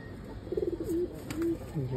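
A female Laden pigeon, part gull-pigeon in its bloodline, gives a fluttering coo followed by longer soft coos, fairly quiet and close, with a voice talking over part of it.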